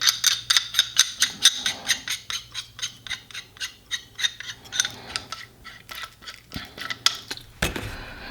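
A metal down stem is screwed into an Art Hookah Aviator hookah, making a close series of sharp rhythmic metallic clicks and light scraping, with a brief clatter near the end.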